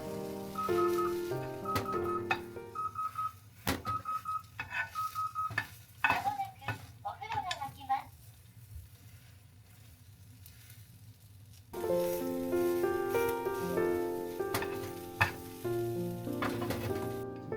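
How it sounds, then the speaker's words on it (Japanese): Egg mixture for a rolled dashi omelette sizzles in a frying pan with light scraping and stirring, mostly under steady background music that drops away briefly midway. "フライパンに流し入れるときはその都度よく混ぜてから入れるようにしましょう。"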